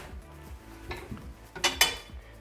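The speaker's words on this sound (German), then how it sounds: "und das Kaminwerkzeug einsetzen." Metal fireplace tools clatter and clink as they are set into the door of a newly installed wood-burning stove, a few sharp metallic knocks and scrapes close by, with one louder clank near the end.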